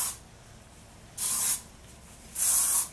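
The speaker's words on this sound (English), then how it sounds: "you give some sprints of hairspray in it" Two short bursts of hairspray from an aerosol can, directed into hair pulled back for a classic bun, each a sharp hiss of about a third of a second, fairly close and alone against quiet room tone.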